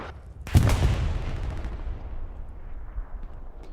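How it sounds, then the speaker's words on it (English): A bombing run strikes in the World War II shooter Hell Let Loose on the Hill 400 map: one heavy blast hits suddenly, then a long, rolling rumble fades slowly over several seconds, with no voices. "But we do got the bombing run."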